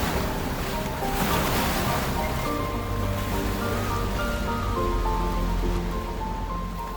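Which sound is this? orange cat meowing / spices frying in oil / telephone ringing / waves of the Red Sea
waves of the Red Sea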